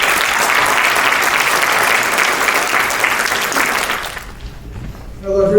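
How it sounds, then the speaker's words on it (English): Loud, close audience applause at a university startup pitch competition, a thick steady roar of clapping that stops abruptly, followed by quiet room tone and a voice starting to speak. "Round of applause, folks"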